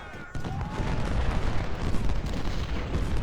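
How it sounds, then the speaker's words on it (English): Artillery fire in Ultimate General: Civil War at Gettysburg, a dense rumbling barrage of overlapping booms and gunfire, loud and continuous after a brief lull at the start. "And enemy artillery has set up again"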